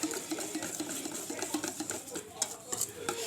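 A hand mixer whirring through pancake batter with cinnamon, a steady buzzing drone with faint scraping taps against the bowl, fairly quiet and close.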